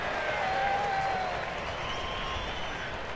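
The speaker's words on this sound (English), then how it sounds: "And a Bronx cheer comes up." A baseball crowd at a Cleveland-at-Chicago White Sox game lets out a Bronx cheer, a sustained, steady roar of booing and jeering from the stands that carries at a distance for the whole stretch.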